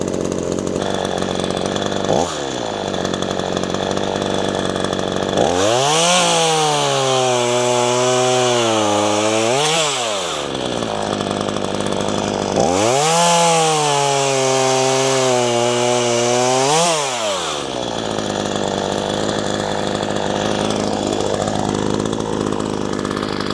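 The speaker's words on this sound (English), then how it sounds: "I'm just gonna chainsaw some stuff for fun, basically." A loud chainsaw runs close throughout, its engine pitch dropping and straining twice as it bites into wood, then revving back up between cuts.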